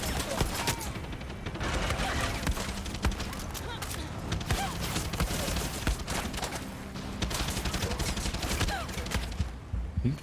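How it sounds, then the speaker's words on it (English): Mortar fire and a barrage of shots in the video game Far Cry 6 keep up for ten seconds, a fairly quiet, continuous volley of sharp cracks and thuds. "I need to get whoever's shooting these fucking mortars at me."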